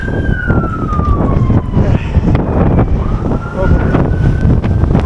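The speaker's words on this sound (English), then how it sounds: "Oh, the wind is really going now." Strong wind buffets the microphone on an ice-covered street on a snowy day, giving a loud, continuous rumbling roar with gusty surges. A faint siren wails in the distance beneath it.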